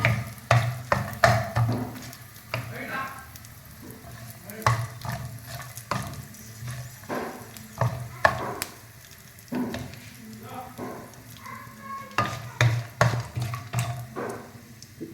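Chana dal frying in hot oil for old-style pulihora, a steady crackling sizzle broken by repeated scraping stirs of a spoon against the pan, close and fairly loud throughout.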